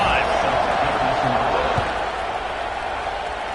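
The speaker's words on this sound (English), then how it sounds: "this crowd is feeling themselves after that last drive" A video game football stadium crowd cheers at kickoff, a constant dense roar that is loud at first and eases slightly toward the end.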